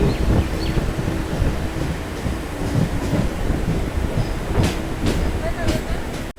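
A Sealdah–Bangaon local train runs on the Eastern Railway line near New Barrackpore, with a steady, loud rumble of wheels and carriages, rattling bursts and wind buffeting throughout; a voice may be faintly present.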